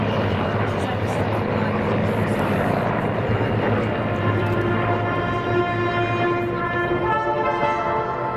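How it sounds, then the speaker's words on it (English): A B-25 Mitchell twin-engine propeller aircraft flying over an airfield as a camera ship at an air display, a steady droning engine roar with a rising tonal whine, loud and continuous. "And all the while being filmed by the garishly painted B-25 Mitchell camera"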